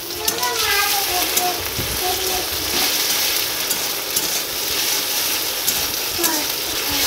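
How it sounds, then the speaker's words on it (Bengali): Potato pieces fry in a hot pan, a steady loud sizzle and crackle of oil running without pause, with occasional scrapes of stirring. "এবার আলুগুলো ভেজে নেব।"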